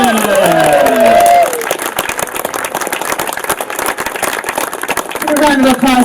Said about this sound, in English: A round of applause for your councilman here, Rishi Kumar.